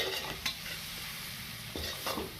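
Mixed vegetables frying in a pan for a millet dish, a soft continuous sizzle broken by several quick scraping stirs of a spatula, fairly quiet and close with no talk.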